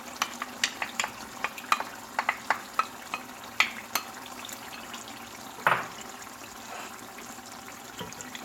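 Tomatoes fry in a pan for a chicken stew while a utensil stirs them, giving a low sizzle under repeated sharp scraping clicks and occasional wet splashes, close by and without talk.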